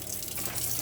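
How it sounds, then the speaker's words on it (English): Water pours continuously from a tap on board a 2018 Swift Archway Celeste 480 caravan, a steady close hiss with no voices. "you'll have water running out of every tap on board the Caravan continuously."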